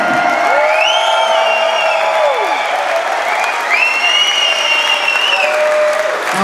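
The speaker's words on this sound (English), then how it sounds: "A German applause for the champ." Crowd applause for the Mr. Olympia Europe 2016 bodybuilding champion in Germany, a steady loud wash of clapping with whistles and cheers rising over it throughout.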